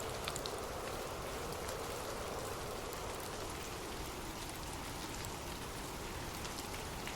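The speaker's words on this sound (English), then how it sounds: "Imagine gentle raindrops falling softly on leaves" Steady gentle rain patters softly on leaves, a continuous, even wash of fine drops with no voices or other sounds.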